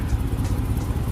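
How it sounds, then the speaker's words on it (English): A car idles with an exhaust leak, giving a steady, close, low rumbling drone with a rough, ragged edge and no talk over it. "I still got the exhaust leak."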